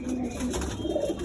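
A domestic flying pigeon coos softly and low, close by, with a steady background hum.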